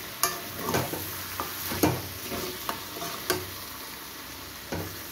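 Meat being sautéed and stirred in a pan, the spatula scraping and knocking in a loose rhythm of about nine strokes over a steady close sizzle.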